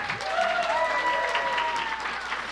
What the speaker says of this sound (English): When you see this sign, you need to applaud.